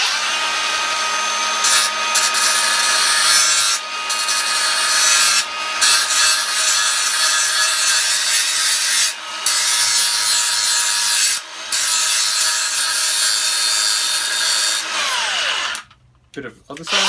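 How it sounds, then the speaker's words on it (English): Handheld grinder polishing the boot trim of a 1959 Chevy Impala, a loud continuous high-pitched whir broken by several brief dips as the disc is lifted and reapplied, then cut off near the end. "So glasses on, get the grinder. I just hold it in my hand, turn it on,"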